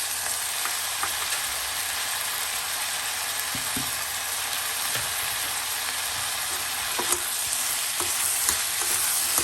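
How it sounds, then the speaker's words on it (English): Vegetables sautéing in a pan for Christmas gravy, a steady, close sizzle and crackle throughout with occasional faint clinks of stirring. "Saute off all of these vegetables."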